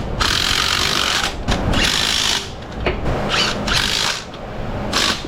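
Milwaukee power tool tightening rear transmission mount bolts in an auto repair shop, loud whirring bursts that start and stop several times across the span, close up with no talk.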